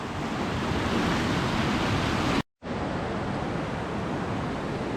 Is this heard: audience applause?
no